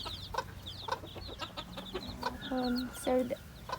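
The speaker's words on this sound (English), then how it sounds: "Let's go see the chickens." Hens and small chicks cluck and peep close by in a farm coop, a steady run of short calls with a drawn-out cackle near the end, no voices.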